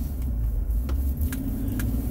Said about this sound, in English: The joys of driving a standard transmission.